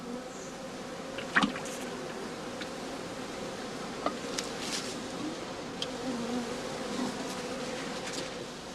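Honey bees buzz around straw skeps on a farm, a steady hum of many insects with a few louder passes near the microphone and no talk.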